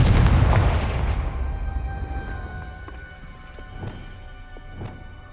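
A Confringo fire spell in Hogwarts Legacy bursts with a heavy booming blast that decays over several seconds, followed by faint scattered thuds and debris-like knocks.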